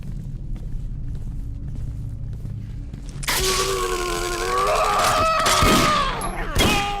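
Gunfire in the dark horror game Condemned: Criminal Origins. It bursts in loud after a low, quiet rumble and holds as a dense, sustained clatter mixed with ringing tones, with a few sharper cracks near the end.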